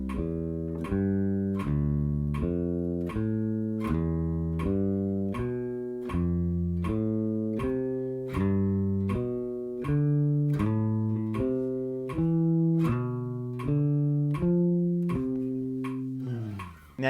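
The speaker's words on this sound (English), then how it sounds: "we're going to play along with the metronome" Bass guitar playing root-position diatonic triads in a steady, evenly spaced sequence of plucked notes moving up and down, loud and clear with no talking.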